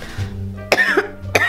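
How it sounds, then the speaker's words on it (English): Several sharp coughs from a person, close and distinct, coming in quick bursts with short pauses between them and throaty rasps around them. "She must have a bad cough."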